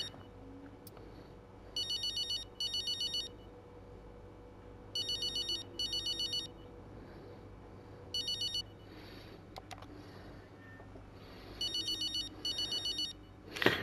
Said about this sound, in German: Oh, ich habe zu lange klingeln lassen.